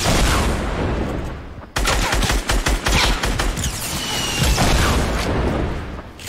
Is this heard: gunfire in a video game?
yes